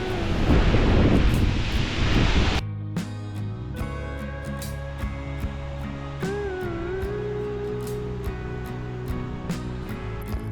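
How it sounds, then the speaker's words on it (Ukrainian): Loud, roaring wind in a Tatra mountain valley buffets the microphone for a couple of seconds, then drops to a steadier windy rumble with engine-like hum and faint tonal sounds. "ось так хмари несуться, вітер дуже сильний"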